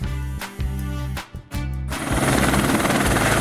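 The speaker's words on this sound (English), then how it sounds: "Tourism helicopter." A tourism helicopter flies close by, its rotor beating in a steady loud rhythmic chop with dense engine noise that thickens toward the end.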